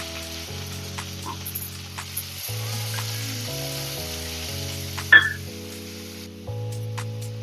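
Two finely chopped onions sizzle steadily in hot oil with cloves and fennel seeds for a pepper country-chicken fry, with a brief stir near the end, all under background music.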